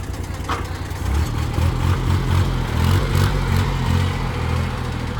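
A Kubota L2000 high-clearance tractor engine runs steadily at close range, its low, throbbing idle holding a constant level throughout with no voices.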